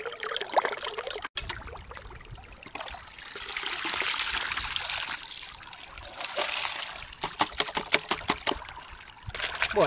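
Water running and trickling over material in a sluice in the Gold Rush video game, a soft swelling rush with scattered splashes and clicks, moderately faint and alone without voices.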